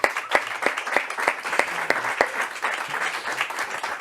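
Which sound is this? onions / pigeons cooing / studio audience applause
studio audience applause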